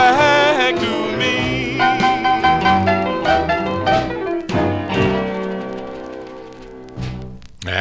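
A doo-wop record plays on vinyl, a full dense mix of group vocal harmony and band carrying steadily at close, loud level, with no one talking over it.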